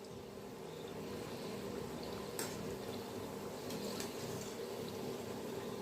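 Gujiya frying in hot oil in a pan, a steady close bubbling sizzle throughout with a couple of faint scrapes and clicks as they are gently turned.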